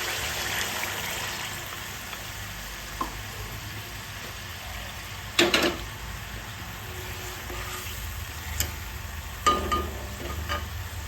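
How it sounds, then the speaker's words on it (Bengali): Spice paste and water are stirred in a cooking pan while coriander leaves and spices cook, giving a soft continuous scraping and bubbling sizzle with a few sharper clinks of the utensil against the pan. "এবার জলের সাথে মশলাটা খুব ভালোভাবে কষে দেখো"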